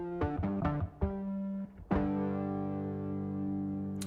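Distorted electronic synth tones made in Renoise, a series of gritty stabs and a short note, then a sustained, buzzy chord ringing out loud and alone.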